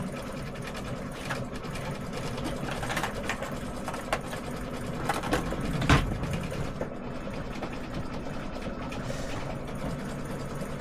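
Embroidery machine stitching a tea towel, a steady rapid mechanical whirring and clatter that runs continuously throughout without any talking.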